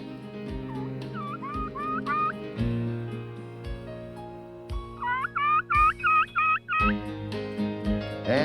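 A wild turkey gobbler gobbles in the spring woods, loud and close, with two bursts of rapid rattling gobbles separated by pauses, over a low background hum.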